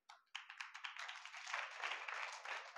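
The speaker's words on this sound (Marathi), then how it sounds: "मुलांच्या टाळ्या खूप काही बोलतात" A group of children clapping at a ten-day camp gathering, quick scattered claps that swell into steady applause after a brief gap, fairly faint and heard without talk.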